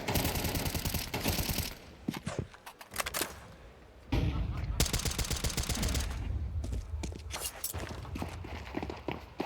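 Rapid pistol fire and footsteps in a professional Counter-Strike match at the StarLadder Budapest Major between paiN and NAVI, dense overlapping shots in bursts under a commentator's voice, with a brief lull midway.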